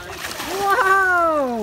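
A child's cannonball jump into a pool: a brief splash under an excited adult's exclamation, heard close amid a family's voices at the pool.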